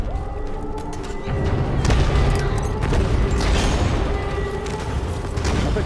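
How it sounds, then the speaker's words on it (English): Grenades going off amid a firefight in the video game Halo Infinite, co-op campaign, with dense continuous booms and crackling gunfire-like bursts, loud and sustained throughout, no voices. "That's my grenades."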